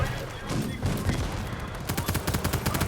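Rapid gunfire crackles through a World War 3 video game battle, dense bursts of shots running throughout, sharpening into distinct repeated cracks toward the end with no talking.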